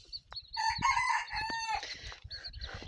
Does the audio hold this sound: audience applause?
no